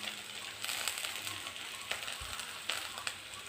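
Ground spices (chilli, turmeric, coriander and cumin powder) frying with ginger-garlic paste and onion in a pan, a steady broadband sizzle with scraping stir clicks throughout.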